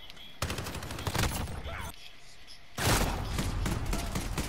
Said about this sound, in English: This guy has a shotgun.